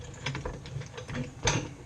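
A small jack ratchets quickly during a tow hitch install on a Kia Soul, a series of soft clicks and clacks ending in a louder clack, close and fairly quiet.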